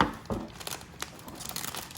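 A rocket kit package being torn open by hand without scissors, with brief crinkling and tearing bursts of plastic and cardboard, close and fairly quiet.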